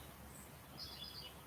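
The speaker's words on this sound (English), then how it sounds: "There's a very excited bird right behind me" An agitated bird chirps close by in a series of high, thin calls over steady outdoor background noise during an outdoor yoga session.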